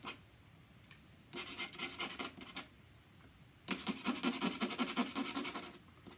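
Ink pen scratching across paper while drawing, quiet close rasping strokes in two bursts of rapid back-and-forth scribbling separated by near silence.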